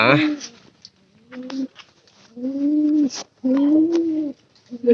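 Pigeons cooing close by in a loft, several low throaty rolling coos in short bursts separated by brief pauses.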